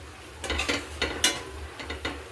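Crushed peanuts sauté with onion in a pan, a series of short scraping strokes from stirring, about seven distinct scrapes close by over a faint background, with no talking.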